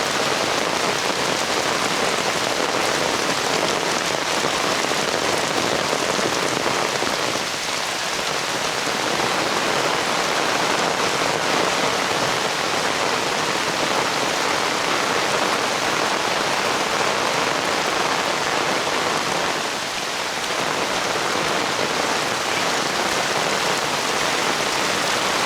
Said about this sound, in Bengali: কঠিনভাবে বৃষ্টি হচ্ছে